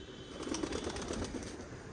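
Pigeons held in a net at a seller's, with soft cooing and light rustling of feathers and wings, steady and close with no talk.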